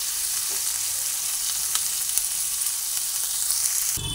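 Chopped onions frying in oil for a cream chicken dish, a steady close hiss of sizzling with faint crackles running throughout, ending in a brief louder burst.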